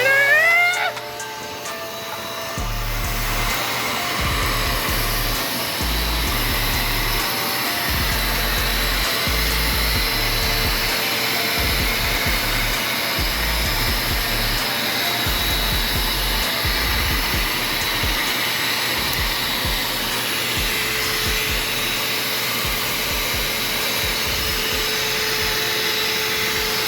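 Vacuum cleaner running steadily and loudly at close range for the whole stretch, a constant whine over low rumbling and bumping, starting up after a brief quieter moment.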